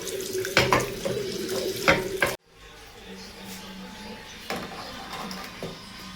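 Tap water splashes into a sink as a small bottle is rinsed, gushing loudly for a couple of seconds before cutting off, followed by faint clinks and quiet room sounds.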